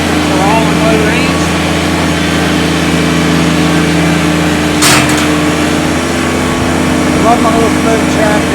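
A 2023 Kubota BX23S 23 HP diesel subcompact tractor engine chugs steadily at close range in low range, a low mechanical rumble that holds throughout, with faint voices now and then.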